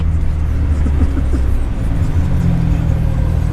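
A Ferrari drives by on the road, its engine a steady loud low rumble and whir that swells slightly as it passes close, with no speech over it.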